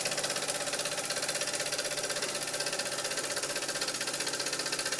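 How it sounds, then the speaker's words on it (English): Doll 320/3 model steam engine, freshly repaired and repainted, ticking over on low steam with a steady, fast mechanical chatter and faint hiss, close and continuous without talk. "Might be able to just tweak it to get it ticking over."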